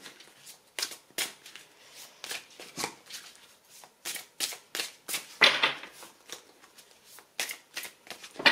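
Tarot cards shuffled by hand before a reading, a string of crisp riffling bursts and soft slaps repeating in an uneven rhythm, close and clear with no talking.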